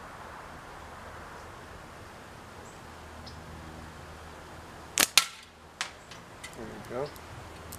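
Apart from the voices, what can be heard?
slingshot shot hitting a can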